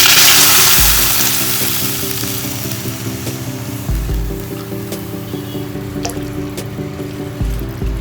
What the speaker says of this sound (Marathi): आणि याच्यात पाणी टाकायचं.